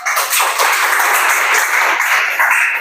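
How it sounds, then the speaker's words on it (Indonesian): A classroom group claps for a student team in a brief burst of steady, dense applause lasting just under three seconds, with no voices standing out. "Tepuk tangan buat untuk kelompok."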